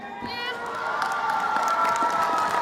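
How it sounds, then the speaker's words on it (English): Crowd at a banquet cheering and shouting with applause mixed in, a dense, steady roar of many voices that builds slightly and holds throughout. "un aplauso para todos y sobre todo para mis compañeros de esta clase"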